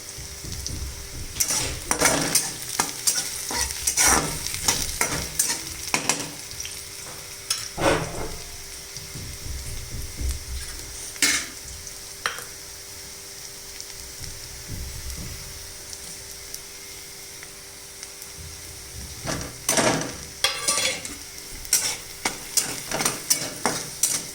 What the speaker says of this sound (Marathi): कांदा असा मस्त लालसर होईपर्यंत परतायचा आहे.